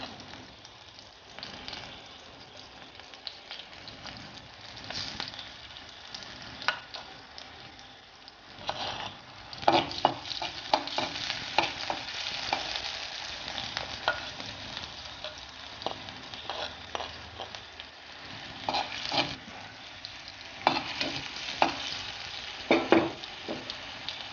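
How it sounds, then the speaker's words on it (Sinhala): Ginger and garlic frying in hot oil for a Sri Lankan spiced rice, giving a steady close sizzle with repeated scraping stirs and crackling pops throughout, no talk. "තෙල් එක රත් වීගෙන එද්දී ඉඟුරු සුදු ලුණු දාන්න"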